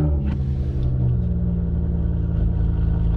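A car with a raw, loud engine, apparently a Polestar, rumbles steadily nearby for about three seconds, its low engine drone and exhaust note continuous and strong with no talking over it.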